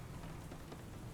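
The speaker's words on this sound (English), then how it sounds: "the rain coming down in sheets now" Heavy rain falls steadily through an open window, a dense, continuous wash of hiss with low rumbling beneath and no break in intensity.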